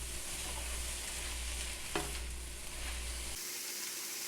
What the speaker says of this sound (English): We're gonna put the chicken right in. We're gonna put in fresh sprouts. Gonna toss those around